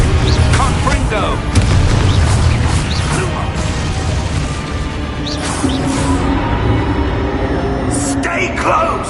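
Confringo blast spell going off in the Hogwarts Legacy video game: loud booming impacts and crashing bursts within a dense, busy combat mix, with a short flurry of magical hits through the middle.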